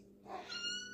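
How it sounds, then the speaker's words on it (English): A pet cat on a kitchen floor lets out a single short, soft, rising meow, close by and quiet, with no talk over it. "You're a good kitty"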